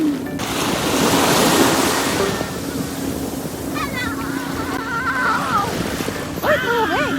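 Sea waves breaking at a beach in Zambales, a loud rushing surf with wind buffeting the microphone, while people talk and exclaim over it near the end.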